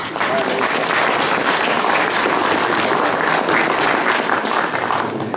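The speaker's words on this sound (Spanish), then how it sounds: "Un fuerte aplauso." Audience applause fills a training session on syllabus preparation, a loud, steady wash of clapping from a crowd that holds evenly throughout with no talk over it.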